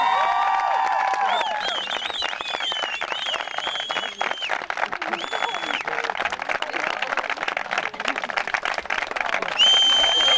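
A large stadium crowd on a sports field applauds and cheers a marriage proposal, dense continuous clapping mixed with whistles and shouting, loud and sustained throughout with voices layered on top.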